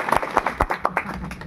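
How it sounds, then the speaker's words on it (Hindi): An audience at a Buddha statue unveiling ceremony in a village claps in a short, scattered burst of applause, with a voice heard faintly underneath. "जोरदार तालियों के साथ स्वागत करिए इनका।"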